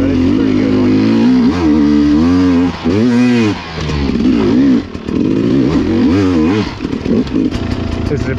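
A trials motorcycle climbs a steep, off-camber hill, its engine revving hard and fluctuating throughout with loud, close throttle bursts and brief dips as the rider works for traction.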